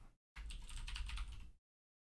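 Typing on a computer keyboard during a ranked online game: a quick burst of close, rapid key clicks lasting just over a second, framed by near silence.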